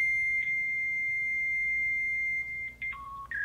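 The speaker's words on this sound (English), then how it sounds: "you will hear the copier's modem sounds" Fax copier modem handshake tones during a fax connection test: a steady, fairly loud electronic tone held for over two seconds, then short stepped beeps at shifting pitches, heard alone.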